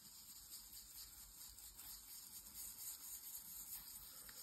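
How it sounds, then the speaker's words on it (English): Faint, steady rubbing of a brush burnishing gilding flakes on a card, a soft continuous scratchy swish repeating with small strokes throughout. "Now I'm going to do the burnishing."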